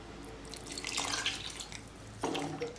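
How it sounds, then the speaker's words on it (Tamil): Water is poured into sambar in a cooking pot, a short splashy trickle lasting about a second, then a brief second splash, fairly quiet and close. "இன்னும் கொஞ்சம் தண்ணி ஊற்றிக்கலாம்."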